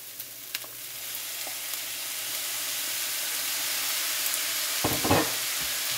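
Beef tapa sizzles in a frying pan while being stirred, a steady hiss with occasional scraping clicks from the utensil, close and fairly soft, with a brief louder stir near the end.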